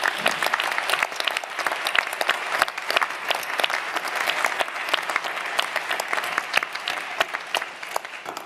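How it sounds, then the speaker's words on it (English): A large crowd applauds law school deans at a new lawyer induction ceremony, producing sustained, dense clapping that holds steady and fairly loud throughout. "Please give them a round of applause."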